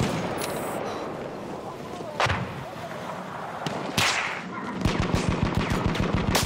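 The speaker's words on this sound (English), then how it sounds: "There's an enemy machine gun." Enemy machine gun fire in a World War I battlefield game, starting as scattered distant shots and ending in a rapid, steady burst of close rounds over constant battle noise.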